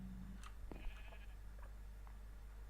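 A Minecraft sheep, the Nether Sheep named Dave, gives a short, faint bleat partway through, set against a steady low in-game hum and scattered soft clicks.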